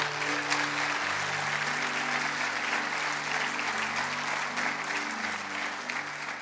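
Steady applause from a church congregation fills the space, dense and sustained throughout, with a low musical hum beneath it.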